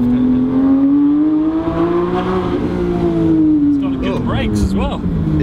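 A Porsche 911 GT3 sports car cruises at very light throttle, its engine a smooth steady hum that rises and falls gently in pitch, close and clear, with voices talking toward the end.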